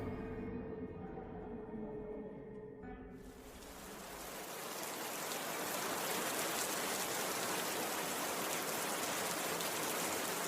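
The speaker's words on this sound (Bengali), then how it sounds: "বাইরে বৃষ্টি পড়ছে।" Steady rain effect in a Bengali horror audio drama, a dense even hiss that swells after a few seconds of dark ambient tone and then pours on loud and continuous.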